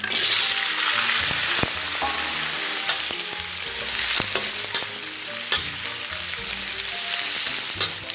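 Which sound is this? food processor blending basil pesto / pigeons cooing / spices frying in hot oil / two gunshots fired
spices frying in hot oil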